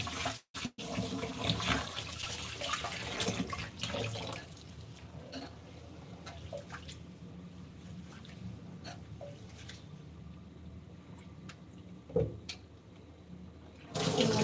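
Grains for idli and dosa batter are washed by hand in water, giving steady swishing and sloshing with occasional splashes and drips, close and continuous with no talk.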